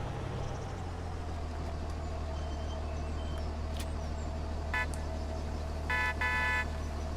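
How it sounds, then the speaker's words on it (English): A short honk of a vehicle horn sounds in a video game, followed a second later by a longer two-part toot, over a constant engine drone. "I hit the wrong button and honked the horn."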